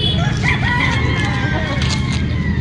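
A Popeye Grill gamefowl rooster crows loud and close in one long, wavering call, with other birds and faint background noise around it.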